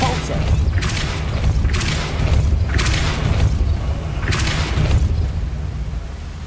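A Depulso spell is cast in the Hogwarts Legacy video game, giving a series of loud, whooshing magical bursts with deep booming thuds, repeating roughly every second over a steady low rumble.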